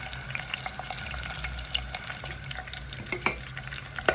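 Drumstick pieces fry with onion paste in a pan, giving a steady soft sizzle broken by scattered clinks and scrapes of stirring. The sound is close, with no talking.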